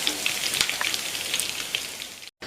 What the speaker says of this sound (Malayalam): സ്വല്പം കറിവേപ്പിലയും കൂടെ ഇട്ട് വറുത്ത് പോരാം.